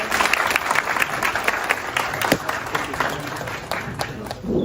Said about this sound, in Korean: 대표님 다시 한번 큰 박수 부탁드리겠습니다